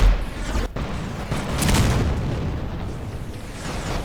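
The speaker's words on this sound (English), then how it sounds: "Oh, more missiles" Missiles explode in a video game, heavy rumbling booms rolling one into the next, loud and close, with a dense roar that swells and fades over a few seconds.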